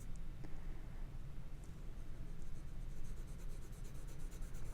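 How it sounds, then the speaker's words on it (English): Graphite pencil drawing on Stonehenge cotton rag paper, a soft continuous close scratching and hissing of the lead, with faint light taps and strokes and no talking. "As I'm doing this, I'm letting the pencil kind of rotate in my fingers to avoid flat spots."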